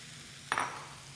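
A single short clink of a utensil against a pot while black beans are stirred into a sweet potato enchilada filling, fairly crisp and alone against faint kitchen hum.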